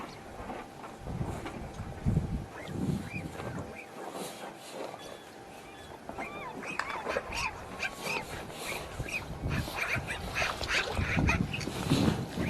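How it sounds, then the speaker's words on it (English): Near Dumpling Mountain, a magpie chatters close behind on a trail with harsh, scratchy, repeated calls over outdoor background noise, with voices at times. "You should be able to hear the magpie chirping at us right now."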